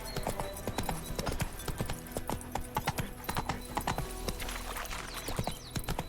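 Hooves of the horse Roach clip-clopping in a steady trot in The Witcher 3, dense, crisp and close, with no voices.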